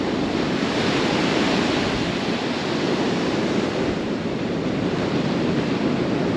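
Ocean surf rolls continuously on an Outer Banks beach, a loud steady wash of breaking waves with wind rushing across the microphone and no voices.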